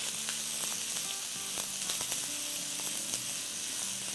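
Chopped onion hits hot oil in a preheated pan, giving a steady, close sizzle with faint crackles and a few light clinks of utensils, no voices.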